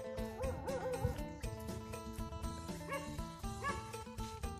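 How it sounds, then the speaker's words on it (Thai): Repeated dog barks and yips come at a distance, scattered through a quiet background with no speech. "เสียงหมาเห่า"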